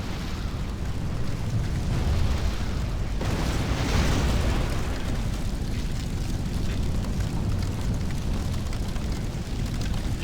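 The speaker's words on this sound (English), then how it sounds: "when a fireball strikes a building, it often set it on fire" Fireball strikes a temple and sets it burning during a siege battle in Rome Total War, heard as a dense, continuous roar of explosions and crackling fire with a louder burst near the start, steady throughout with no talk.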